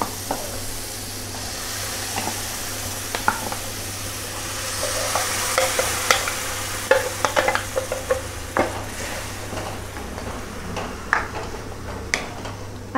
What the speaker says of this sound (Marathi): आता हे आपल्याला मसाल्यामध्ये छान मिक्स करून घ्यायचं आहे.